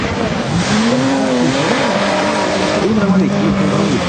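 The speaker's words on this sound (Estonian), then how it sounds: "Volkswagen Golfil on minu annast kohe starti." A Volkswagen Golf rally car engine at the start of a rally sprint roars and revs steadily throughout, loud and close, with someone talking over the engine noise.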